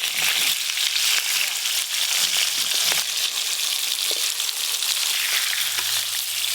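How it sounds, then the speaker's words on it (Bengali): Hilsa fish fry in hot oil, a loud, close, continuous sizzle with crackles and spatters throughout and no voices. "এই দেখুন এই মাছগুলো ভাজা হয়ে গেছে"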